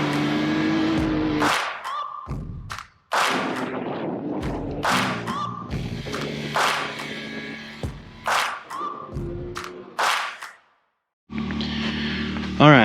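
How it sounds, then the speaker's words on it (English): Can-Am Maverick X3 Turbo RR three-cylinder turbo engine revving in repeated sharp bursts with thuds and short gaps, loud and close, with people talking in between. "Why does it sound funny? It's got a 3-cylinder in it."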